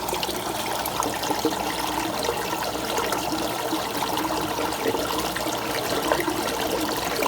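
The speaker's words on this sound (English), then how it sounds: "We got this filling back up with water now." Water refills a primed overflow tube in a fish room aquarium, a continuous gurgling trickle and rush with small splashes, steady and moderately loud with no voices.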